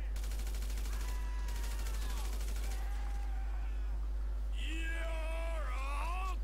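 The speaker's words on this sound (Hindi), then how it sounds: "ओह गोलियां पड़ रही है।" Gunfire in the video game GTA V: dense bursts of rapid shots fill the first half, then fade, with tonal game sounds and music continuing underneath and rising near the end.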